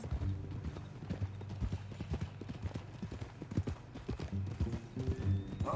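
Horse hooves from the Red Dead Redemption 2 video game, a brisk run of clip-clopping beats at a quick, even pace, moderately close and fairly quiet, with a faint snort or whinny near the end.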